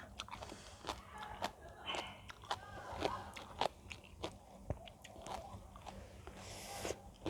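Close mouth sounds of someone eating khanom jeen, soft chewy Thai rice noodles, with a steady run of wet biting and chewing clicks and smacks, no talking.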